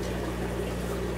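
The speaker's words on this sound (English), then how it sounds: "Water flows into the tank and then it has to leave the tank." Water pours steadily into an aquarium tank fitted with an automatic water-change drain system, a constant soft rushing trickle with a low steady hum beneath, faint and unbroken.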